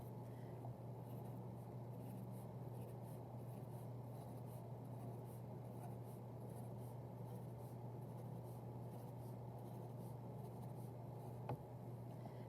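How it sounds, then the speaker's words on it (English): A Sharpie marker scratches faint lines across paper, quiet continuous rubbing strokes over a steady low hum, close by and with nobody talking. "I'm only using a Sharpie right now so that my lines are nice and clear for this demonstration"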